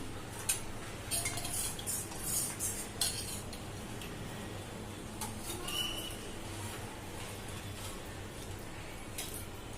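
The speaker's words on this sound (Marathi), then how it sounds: "कॉर्नफ्लॉवर टाकताना हलवत राहा हे बघा खाली चिपकायला नको म्हणून" Chicken manchow soup stirred in a pot while cornflour is added, a spoon scraping and clinking steadily against the metal over a constant low hum, with no one speaking.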